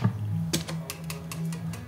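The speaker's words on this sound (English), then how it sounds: "you can hear the clack of the plectrum on the strings. Which is happening right now." Guitar plectrum clacking against the strings of an electric guitar, a series of crisp picking clicks over a sustained low note, close and moderately quiet.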